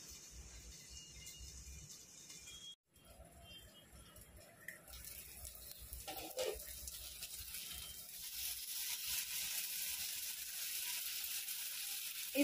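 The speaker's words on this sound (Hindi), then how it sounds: "इसे मैं ढककर करीब 5 से 7 मिनट के लिए पकने देती हूँ।" Food cooking covered in a pan over a medium gas flame, giving a steady soft sizzle and frying hiss throughout, with a brief dropout and a faint clink partway through.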